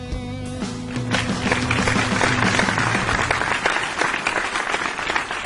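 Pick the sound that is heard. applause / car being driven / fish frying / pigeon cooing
applause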